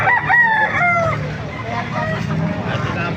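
A Kanawayon rooster at the Baliuag tyangge market crows close and loud in one drawn-out call, then the call trails off into background market chatter and low murmuring voices.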